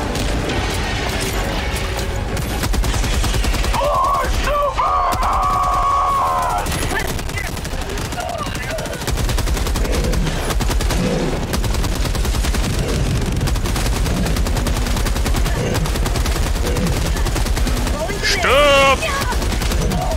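Machine-gun fire in a video game rattles in busy bursts across the whole stretch, mixed with mechanical clatter and a few booms, with game sounds and occasional voice noise layered on top.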